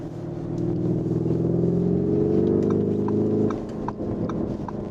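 A deep, throaty exhaust from a 2023 Lamborghini Urus in sport mode rumbles under acceleration for a few seconds, then drops off to a quieter drone, close by.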